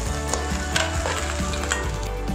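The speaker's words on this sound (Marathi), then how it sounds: "तर आता आपण सर्व व्यवस्थित असं अजून एकदा मिक्स करून घ्यायचं आहे बघा." Egg fried rice with masala being tossed and mixed in a hot pan, a dense continuous sizzle with repeated scraping strokes of a spatula, close and fairly loud with no speech.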